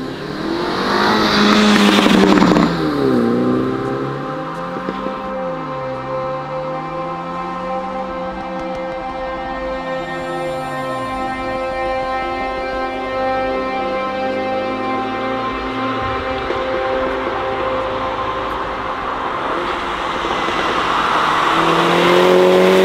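A MINI fitted with a JCW Pro aftermarket exhaust is revved hard. One sharp blip opens into a rising, falling and sustained engine drone with a raspy exhaust note, close and loud throughout, with no talking.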